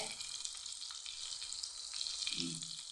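Fish frying in a pan gives a steady, fairly faint close sizzle and crackle of hot oil, alone and without voices.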